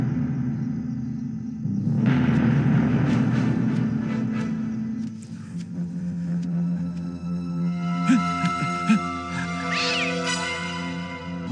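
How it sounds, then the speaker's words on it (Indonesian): A cat meows repeatedly over a low rumbling background, with drawn-out, wavering cries close by, growing more insistent toward the end. "Kucing."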